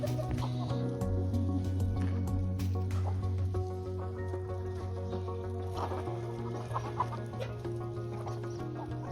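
Aseel roosters and hens clucking near a farmyard on a rainy morning, repeated soft clucks and calls over a steady background hum, moderately close.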